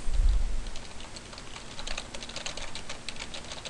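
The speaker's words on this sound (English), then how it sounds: "we're just going to type in some random stuff" Typing on a computer keyboard while entering text into a content manager, a steady stream of soft, quick key clicks close by with no talking.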